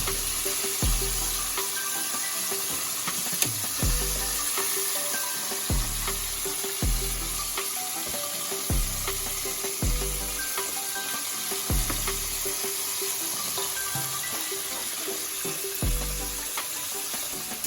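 Chicken wings pan frying, cooked alongside yellow rice: a steady, loud sizzle of hot oil close up, broken by regular low thumps about every two seconds, with no one speaking.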